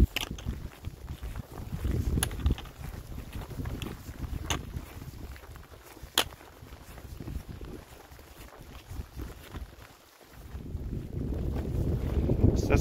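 Wind blows outdoors straight into a microphone, making uneven low buffeting rumbles that rise and fall in gusts, briefly easing before growing strong again toward the end.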